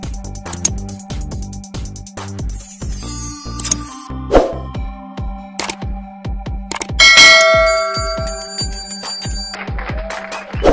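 A notification bell sound effect rings out as a busy series of bright dings and clangs, layered over a steady tonal musical backing, loud and close with no talk.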